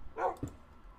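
A dog in the Minecraft video game gives a short bark, a single brief synthetic yip that rises and falls quickly and sits alone against a quiet game background.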